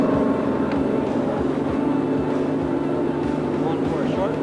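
A bass fishing boat's outboard motor running on Leech Lake, a loud continuous engine drone with rushing water noise throughout.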